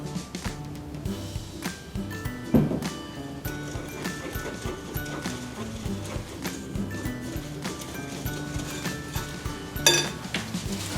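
Blueberry bread batter being stirred in a mixing bowl, with soft irregular scraping and clinks of utensil against the bowl running throughout, plus a couple of sharper knocks, close and moderately quiet.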